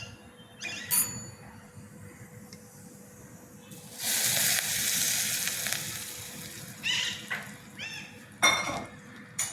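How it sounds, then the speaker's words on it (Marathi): Hot tempering poured over raw fenugreek salad already topped with chili powder and asafoetida, giving a loud, sustained sizzling hiss for about two seconds amid scattered clinks of utensils and dishes. "त्याच्यावर नुसती फोडणी टाकू"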